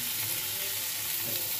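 Eggplant sizzling in hot oil with black cumin, dried chili and bay leaf, a dense, even frying hiss throughout with no talking.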